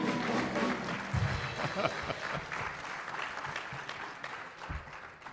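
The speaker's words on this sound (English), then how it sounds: "Let's give them another round of applause." A ceremony audience applauds the departing band, dense sustained clapping from a large crowd filling the room from start to finish, gradually easing toward the end.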